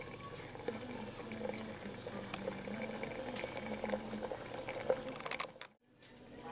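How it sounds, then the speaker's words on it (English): Water bubbles and boils steadily in a can during a Boyle's law experiment, with gases escaping in a busy, dense hiss and gurgle, then cuts off abruptly near the end before resuming. "the water is boiling and the gases are escaping"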